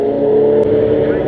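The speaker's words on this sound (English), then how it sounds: "A couple of the lap cars just coming across the line there." Formula Vee race cars cross the finish line at an Irish circuit in 2014, a loud steady engine drone with a brief sharp blip midway, while a commentator's voice talks over it.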